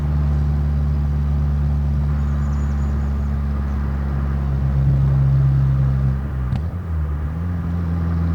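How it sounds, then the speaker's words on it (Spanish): A Fiat Uno Turbo engine labours at low revs below 2000 rpm while climbing uphill, a steady deep droning hum with a brief dip and shift near the end, no talking over it. "Por debajo de 2000 vueltas se nota que el motor va bastante estrangulada"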